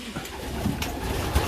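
Pigeons coo softly inside a loft, a few low murmuring calls over quiet rustling background.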